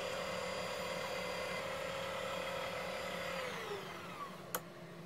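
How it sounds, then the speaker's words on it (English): Small propeller spinning on an electric motor run by a throttle controller, a steady high motor whine with harmonic tones that winds down and drops in pitch near the end, followed by a brief sharp click. "The prop is spinning. I need to go a little bit faster"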